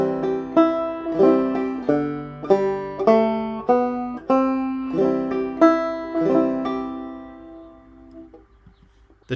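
Simple banjo tune picked note by note in a steady rhythm, with bright plucked strings and a repeated phrase, played clearly and alone before the last notes ring out and fade.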